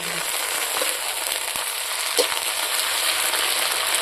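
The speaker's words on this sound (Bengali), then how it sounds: "পেঁয়াজটা ভাজা হয়ে গেছে অর্ধেক এখন আমি আদা আর এই গোলমরিচের বাটাটা দিয়ে" Half-fried onions in a pan, with ginger and black pepper paste stirred in, sizzle steadily with a few scraping clicks, close and continuous, with no speech.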